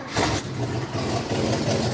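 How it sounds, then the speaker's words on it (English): An old Oldsmobile 350 Rocket V8 with an exhaust leak fires up and runs in a loud, steady, throaty rumble that fills the whole stretch without pause. "I'm gonna fire it up so you can hear the old 350 rocket"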